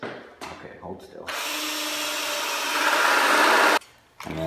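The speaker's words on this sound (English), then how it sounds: "We're going to countersink and pre-drill." A power drill pre-drills and countersinks into a wooden stud for a workbench leg, a brief rev followed by a steady grinding whine that stops sharply, with faint voices before.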